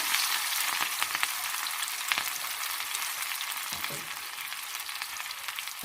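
Mustard seeds and green chillies sizzle and crackle in hot tempering oil, a steady bright frying hiss with scattered pops and a few stirring scrapes, no voices.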